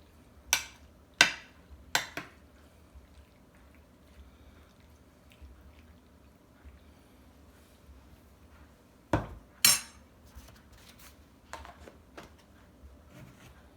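A spoon scrapes and clinks against a pot while homemade mac and cheese noodles are stirred, with a few sharp knocks clustered early and again later, separated by quiet stretches.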